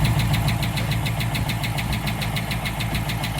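A 5.7 HEMI V8 in a high-mileage Durango idles with a fast, even mechanical ticking that repeats steadily over a low engine hum, close and clear throughout.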